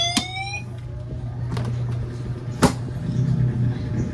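A Condy 800 motorcycle's anti-theft alarm sounds in a workshop, a steady electronic tone with rising chirps and a sharp click, close and loud, with faint background noise.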